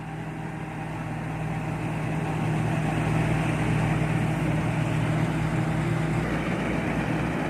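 A rice combine harvester engine works a paddy during the harvest, a steady, loud diesel drone with a constant low hum and mechanical rattle, close by and unbroken, with no talking.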